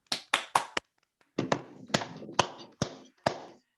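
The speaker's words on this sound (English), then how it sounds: "So you can give yourselves a clap." A small group clapping hands in short, sharp bursts: a quick run of claps, a brief pause, then a steadier run of single claps, close and clear against silence.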